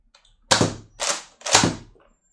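Three sharp, close snaps from a Nerf toy gun, evenly spaced about half a second apart, each a quick plastic crack with a short tail, in a quiet room.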